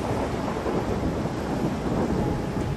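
Heavy rain pours down steadily in a Far Cry Primal thunderstorm, a dense, continuous roar with deep rumbling thunder folded into the wash and no talk.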